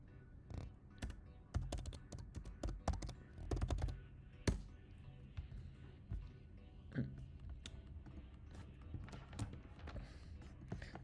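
Typing on a computer keyboard, heard as rapid, irregular clicks and key taps up close for several seconds, with a few heavier thunks and no one speaking.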